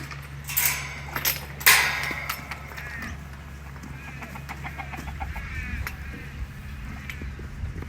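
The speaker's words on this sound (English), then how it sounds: "Oh my god, the red chicken's going in." Chickens cluck and squawk around a farm yard, with a few loud bursts early on and then softer scattered clucks and shuffling against a steady low hum; little talk.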